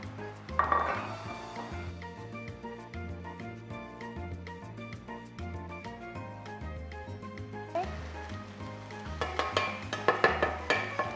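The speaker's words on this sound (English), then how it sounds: "Now we have 250 grams of a mushroom, brown mushroom. I'm going to get in that pot, thinly sliced." Thinly sliced brown mushrooms cook in a pot with soft sizzling, joined by a utensil scraping and clinking against the pot as they are stirred, while steady background music plays throughout.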